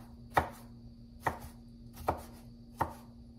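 A knife chopping onion into small pieces for shrimp ceviche, four separate crisp board strikes at a slow, even pace, close and isolated over a faint hum.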